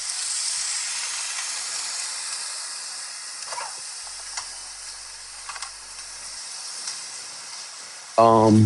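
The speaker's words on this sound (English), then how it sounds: "this is turkey bacon" Turkey bacon sizzles and hisses steadily in a frying pan, a soft continuous crackle with a few faint pops throughout and a brief louder clatter at the very end.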